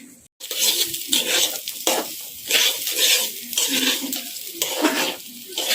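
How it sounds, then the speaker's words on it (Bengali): Polao rice dry-frying in a pan while being stirred steadily; loud, close sizzling hiss rises and falls in a regular rhythm with each sweep of the spoon, with light clatter against the pan and no voices. "ভালো করে এখন ভেজে নেব চাল।"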